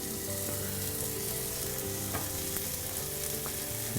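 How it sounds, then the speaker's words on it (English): Fatty rack of lamb sizzles skin side down in a hot pan, a steady close crackling fry with small spits and pops throughout and no talk. "just going to place that skin side down in the pan"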